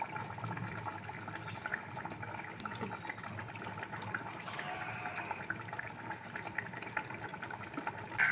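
Water in a pan for a mustard curry of bata fish with fried fish and eggplant comes to a boil with a faint, steady bubbling hiss that runs without a break, quiet and close.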